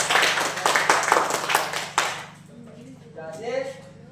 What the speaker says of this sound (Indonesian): beri mereka tepuk tangan yang meriah